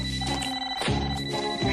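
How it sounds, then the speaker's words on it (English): A cartoon magic toaster rings like an old telephone bell, a close, loud, warbling trill sounding in quick repeated bursts with no voices. "Your toaster's ringing."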